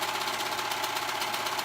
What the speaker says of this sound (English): So I'm just sewing around that raw edge all the way around the sleeve